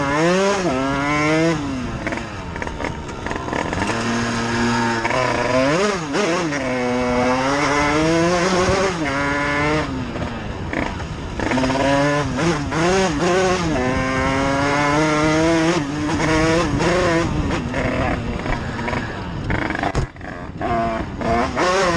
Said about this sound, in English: He skillfully turned on the throttle and sped away as if nothing had happened.